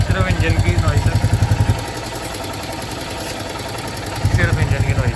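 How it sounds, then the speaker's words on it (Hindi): A Bullet motorcycle fitted with a free-flow bend pipe and a BS6 silencer idles with a steady low thumping beat, loud and close. A quieter stretch in the middle is overlaid by someone talking. "सिर्फ इंजन की नॉइस है।"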